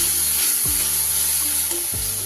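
Ground spices with a splash of water frying with potato, pointed gourd and soybean in a pan for a vegetarian curry, a loud, constant sizzle broken by two spatula scrapes.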